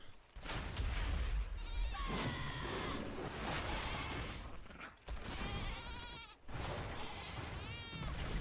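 Sheep bleat repeatedly in the video game World of Warcraft: The War Within, wavering calls rising clearly over a dense, noisy game backdrop.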